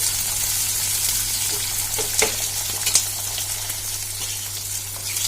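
Chopped ivy gourd fries with cumin and mustard seeds in a hot pan, giving a constant close sizzle with a few sharp stirring knocks and a low steady hum underneath.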